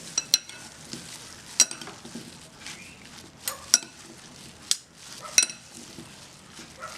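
Fresh vegetable salad gets stirred in a bowl, with sharp clinks of a utensil against the dish at irregular intervals over soft, quiet tossing and rustling.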